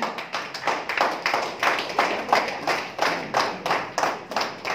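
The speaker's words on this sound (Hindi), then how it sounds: "अपने हाथों से अपने आवाज से नवाजें मोहम्मद सलीम साहब को" A crowd claps in steady bursts of applause, rhythmic and fairly close, with no talking over it.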